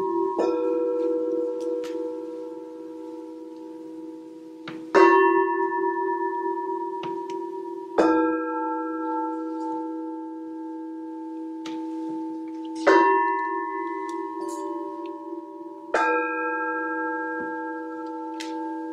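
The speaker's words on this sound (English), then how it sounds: "the way bells have a sense that they can come right into our hearts" Bells ring in a piece of music: a struck note lands every few seconds and each leaves a long, resonant ringing tone that sustains and overlaps the next, loud and close with no voices.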